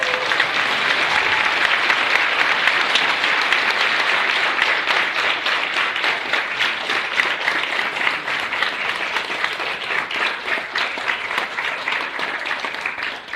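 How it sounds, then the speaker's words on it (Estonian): Steady audience applause fills a room at a 25th jubilee celebration, dense even clapping that carries on for several seconds and slowly tapers near the end. "Aplaus!"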